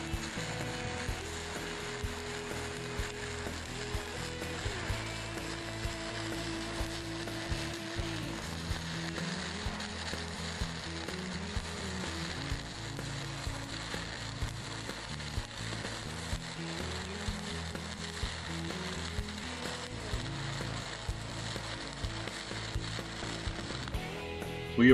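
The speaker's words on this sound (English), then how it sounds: "we have included a close-up shot of the stainless welding during one of the weld segments" Stick welding on 316 stainless steel with an Everlast PowerArc 300 arc welder produces a steady, continuous crackling sizzle that holds at an even level throughout, with no talking.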